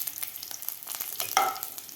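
Garlic and curry leaves crackle and sizzle in hot oil in a pan over a medium flame, a close, continuous frying hiss with a brief sharper clink near the end and no talk.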